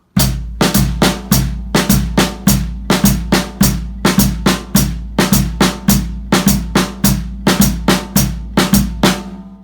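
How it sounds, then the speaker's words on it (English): Drum kit groove for Afro-Caribbean music, with a steady quarter-note hi-hat pulse locked to bass drum hits; crisp, close, evenly repeating strokes at a moderate tempo, with no other sound. "So we're going to just add a hi-hat quarter note pulse."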